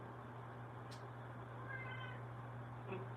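A house cat gives a few short meows indoors, faint against a steady low electrical hum, with no talking.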